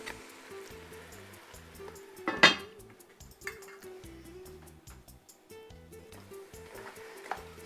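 A lid clatters onto a metal pot of braised pork ribs with onion and garlic, one sharp clang followed by smaller clinks against a quiet kitchen background.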